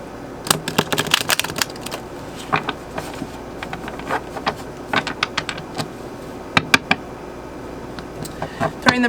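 Tarot cards shuffled close up, a steady run of crisp riffling clicks and snaps that comes in bursts of varying density, with soft speech faintly underneath.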